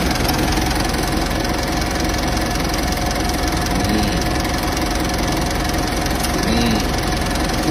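Engine of an automatic Mitsubishi Pajero Exceed running at a steady idle, a constant dense rumble with a slight knocking texture, close and loud throughout with no clear speech.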